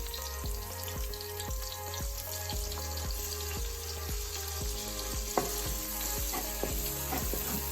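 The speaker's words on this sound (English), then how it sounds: "Now you keep stirring to ensure that it does not burn" Curry powder fries in a pot for Jamaican curried chicken, a constant close sizzle with the regular scrape of a spoon stirring and an occasional sharp knock.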